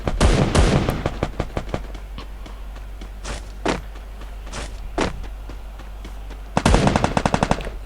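Rapid automatic gunfire and single shots in the Free Fire battle royale game, loud and close, with bursts at the start, scattered shots in the middle and a fast final volley.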